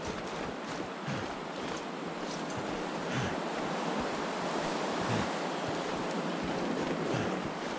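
Steady roaring wind from the survival video game The Long Dark, a constant broad rushing hiss that fills the whole stretch without easing, with no voices over it.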